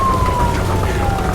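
A police car siren in the video game Nobody Wants to Die wails in a slowly falling tone, partly buried under loud rumbling noise.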